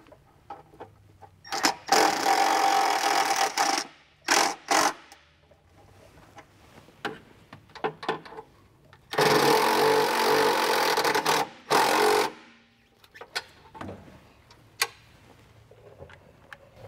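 A power drill runs in two long whirring bursts, with a few short ones between them, while temporarily mounting an aspiration kit part on a Bobcat T76 compact track loader. The drilling is close and loud against a quiet background.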